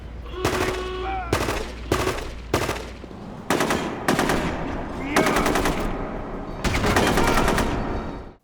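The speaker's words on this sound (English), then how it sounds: "the weapon sounds however are atrocious" Weapons in the video game Rogue Warrior fire in a series of loud, sharp bursts separated by brief pauses, with rapid automatic gunfire rattling through several volleys.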